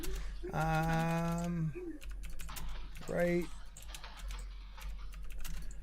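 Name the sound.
typing on a computer keyboard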